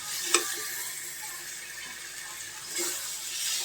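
Boiled taro and prawns frying in a pan make a steady, close sizzle that swells slightly near the end, opened by a single sharp clink of a utensil.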